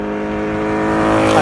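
A Ferrari race car built from scratch, its engine fitted with baffles, revs loud and close in a rich, steady harmonic drone that swells slightly toward the end.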